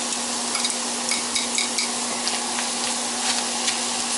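Garlic sizzles in a hot pan alongside sirloin tips, a steady close crackling fry with small pops and occasional stirring scrapes, with no voices.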